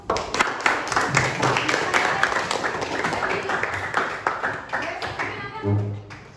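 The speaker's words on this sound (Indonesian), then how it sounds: "Tepuk tangan dulu" A group of participants in an Indonesian school training session on artificial intelligence ethics clap in a short round, with a few distinct claps at the start and faint voices and hums in the room.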